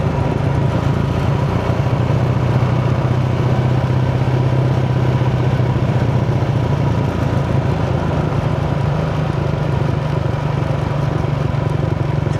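A Yamaha Sniper 155 motorcycle engine braking on a stock engine, a steady mid-pitched drone with a low rumble held evenly throughout, loud and close with no talking.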